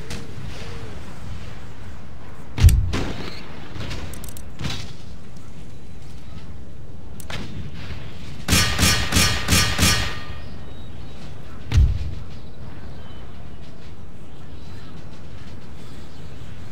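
Artillery from 4-inch mortars in the Empire Total War strategy game, a few heavy booming thuds spaced apart, then a quick rhythmic volley of four or five sharp blasts, and another thud later over low battlefield ambience.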